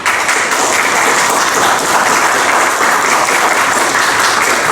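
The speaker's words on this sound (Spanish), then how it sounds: "les invito a dar un fuerte aplauso al doctor Camargo" Steady, dense applause from a conference audience greeting a speaker at a public administration digital transformation event, loud and continuous throughout with no talk over it.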